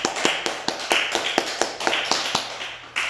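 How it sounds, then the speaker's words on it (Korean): A church congregation at a Wednesday prayer meeting claps in unison, a steady rhythm of sharp hand claps repeating about every quarter second for a few seconds. "우리 하나님께 영광의 박수 올려드립니다."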